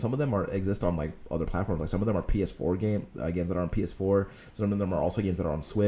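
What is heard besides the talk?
No everyday noise stands out behind the speech.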